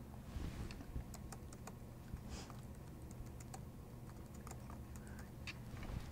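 Steady keystrokes on a computer keyboard as a header is typed into a document, with faint clicks scattered through a low background hum.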